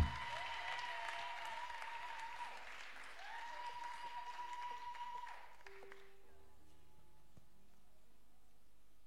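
Congregation applauding during a Sunday church service, sustained clapping with a faint tonal hum underneath that fades after several seconds, leaving quiet room sound.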